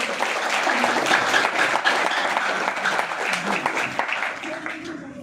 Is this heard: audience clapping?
yes